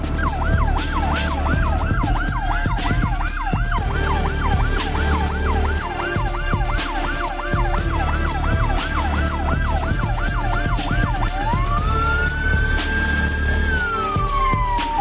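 An ambulance siren wails in a fast, repeating up-and-down pattern, then shifts to a long rising and falling tone, loud and close over the rumble of surrounding traffic.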